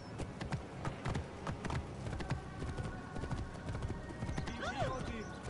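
Hooves of a mare clip-clop steadily in the game Assassin's Creed Origins, with an occasional whinny rising near the end, all under a busy background of ambient game sound.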